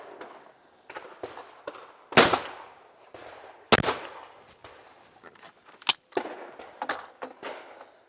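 Shotgun blasts at clay targets ring out outdoors, several sharp loud reports spaced a second or two apart, with quieter clicks and clanks between.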